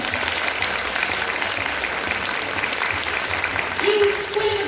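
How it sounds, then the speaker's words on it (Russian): Steady applause from a large audience, continuous and fairly loud throughout, swelling slightly near the end. "не будем жалеть аплодисментов и будем поддерживать наших артистов"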